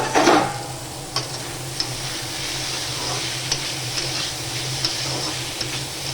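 Pumpkin pieces fry in a pan with turmeric and salt, giving a steady close sizzle throughout, with a few sharp scrapes and taps as a spatula stirs them every second or so.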